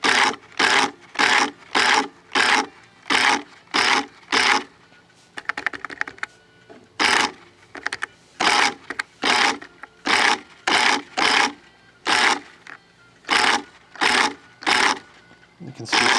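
A Sharp EL-1197 PIII printing calculator runs its print gears in fast, loud mechanical bursts, a dozen or more rapid chattering clatters in a regular rhythm, with a brief softer rattling pause in the middle.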